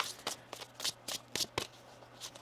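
Tarot cards shuffled by hand in a riffle pattern, with about seven crisp, close bursts of paper flutter at an uneven rhythm and no talk over them.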